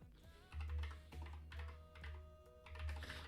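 Quick bursts of keystrokes on a computer keyboard while a command is entered on a Minecraft server, soft close clicks in uneven clusters with short pauses, no voices.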